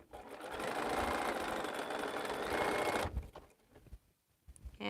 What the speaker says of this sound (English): Maybe I'll chain sew on one of these half square triangles